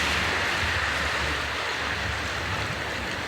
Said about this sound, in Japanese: この波の音が最高ですね